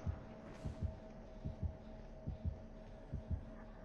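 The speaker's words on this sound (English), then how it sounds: "Heartbeat is strong." Killer's heartbeat terror radius in the game Dead by Daylight, a low steady double-thump pulse repeating about every second and a half, over a faint hum, with no voices.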